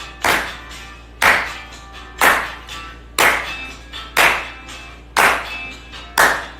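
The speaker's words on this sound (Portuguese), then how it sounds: "Se você puder bater palmas na sua casa" Seven sharp bursts of hand clapping at a steady pace, about one per second, fairly close with a brief ring after each, at home during a live church worship service.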